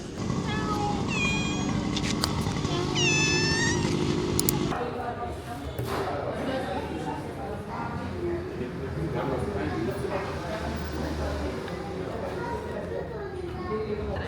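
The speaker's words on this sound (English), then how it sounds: "here's some cute cats" Street cats at a souk in Djerba, Tunisia meow in several short, rising cries near the start, then fade into a busy background of crowd chatter and clatter.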